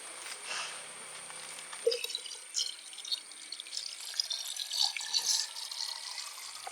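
Homemade pineapple wine trickles and splashes in a thin stream into a bottle, a close, quiet liquid pour with faint drips and no talk.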